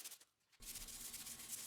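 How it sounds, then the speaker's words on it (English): Bare metal on a Honda CR-V body being sanded by hand with 80 grit sandpaper in a garage, a brief scratchy stroke, a pause, then steady close, faint rasping rubbing with no talking. "I'm sanding the bare metal areas with 80 grit and starting to feather the edge of the OEM paint."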